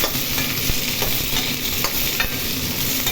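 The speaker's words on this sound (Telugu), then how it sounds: "ఈ కూరగాయలన్నీ నేను ఫస్ట్ ఇలా వేయించుకోవాలి" Vegetables frying in a pan for a moringa chutney, a steady close sizzle with faint stirring scrapes running throughout, no voices.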